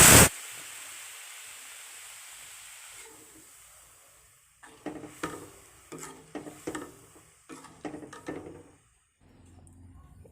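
Taro greens dropped into hot oil for an Assamese dal kochu xak dish: a sharp initial splash gives way to a soft steady sizzle, then clustered bursts of stirring and crackling in the pan, close and fairly loud.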